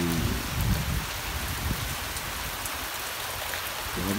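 Heavy rainfall hisses evenly in a dense, unbroken wash, with some low rumbling thuds near the start and end and no voices.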